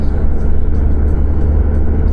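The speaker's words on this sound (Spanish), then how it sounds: "sacamos el carro y arrancamos rumbo a Churín" A car pulls out of a garage and drives off at night through fog toward Churín, Peru, its engine and road noise a loud, close, steady low rumble with no talking.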